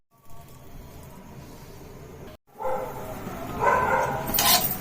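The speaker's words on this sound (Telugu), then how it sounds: "ఇంకా మా దగ్గర కుక్కల సౌండ్ కూడా స్టార్ట్ అయింది. పొద్దున్నే అరుస్తున్నాయి." Dogs barking in the early morning, several moderately loud barks and yips that begin after a short pause and grow more insistent toward the end over a steady household background.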